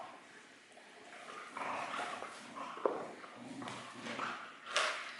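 A dog moves about indoors, with soft scrabbling and footstep-like taps and a few faint yips, quiet and fairly close, with little talk.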